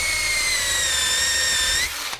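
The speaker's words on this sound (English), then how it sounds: "so we'll reverse the drill" A power drill runs in reverse while backing out of a ceiling opening for recessed lighting: a steady high motor whine holds for almost two seconds, then cuts off abruptly, close and loud.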